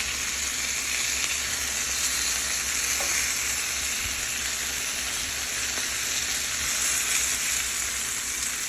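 Chicken thighs frying in a pan on a stovetop, a loud continuous sizzle and crackle holding steady throughout with no one talking.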